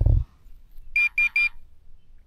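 Minelab Pro-Find 40 pinpointer giving its detection alert, three short sharp electronic beeps in quick even succession, close and clear after a brief thump of handling.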